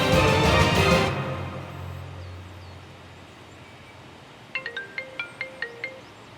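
A phone ringtone plays while someone places a call: a loud rumbling noise at the start fades into quiet, then a quick series of about six short electronic beeps sounds near the end.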